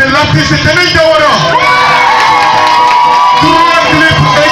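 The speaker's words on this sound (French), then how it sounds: "On peut l'applaudir, mesdames et messieurs." Crowd at a live concert cheering and whooping, lively shouts over a busy hubbub, with a loud voice carrying on top of the noise.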